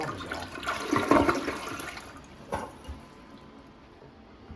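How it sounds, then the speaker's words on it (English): A toilet being replaced is flushed with its water supply shut off: a loud, close rushing gush that drains away and fades into quiet without the tank refilling. "The water's off, just gonna flush this. Let it all go down."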